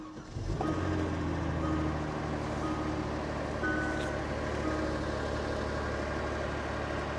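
A car at a salvage auction with 72,900 miles and a power steering problem cranks briefly, then catches and settles into a steady, loud idle with a faint whine running alongside it.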